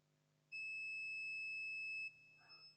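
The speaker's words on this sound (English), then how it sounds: "You can hear the beep." A multimeter continuity beep, testing a fuse on a Lenovo ThinkPad T450 motherboard, sounds steady and high-pitched for about a second and a half, clean and close, with a quiet hum underneath and a faint noise after.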